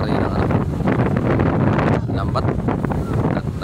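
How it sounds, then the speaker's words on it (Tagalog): Strong wind buffets the microphone on a fishing boat out at sea on the Pacific during the southwest monsoon, a loud, constant roar under which a voice can be made out. "Masyadong malakas ang hangin at malakas din ang alon."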